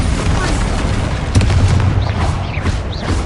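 Bombarda spell explosion in Hogwarts Legacy, a loud booming blast over a continuous low rumble of battle noise, with a sharp burst midway and smaller crackling hits toward the end.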